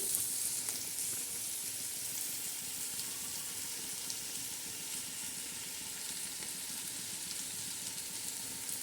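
Masala for chicken pulao sizzles steadily while being sautéed, a continuous close frying hiss with faint stirring movements underneath and no talking.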